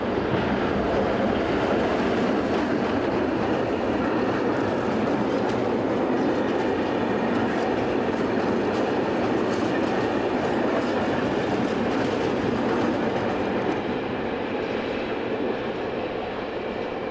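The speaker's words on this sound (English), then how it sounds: "Class AE66 number 11505 passed by with this northbound cement working" Class AE66 locomotive hauling a northbound cement freight train past at close range, a loud continuous rumble of wheels on rail with faint clickety-clack, steady for the whole passage.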